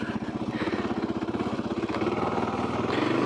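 Kawasaki KLR650 dual-sport motorcycle ridden off road over a jump, its single-cylinder engine close and steady with a rapid pulsing putter that swells slightly toward the end, no talk over it.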